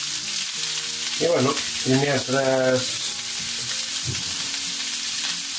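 Fish browns in a pan for a meunière sauce, a constant bright sizzle and crackle of frying fat under a voice speaking Spanish.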